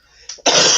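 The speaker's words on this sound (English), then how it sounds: "I'm gonna cough." A single sharp, harsh cough bursts out close to the microphone after a brief breathy lead-in, very loud and lasting under half a second.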